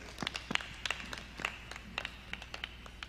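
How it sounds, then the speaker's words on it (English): Scattered claps from a wedding congregation at a church ceremony, irregular and fairly faint, rising and falling without building into full applause. "Let's give a clap unto the Lord."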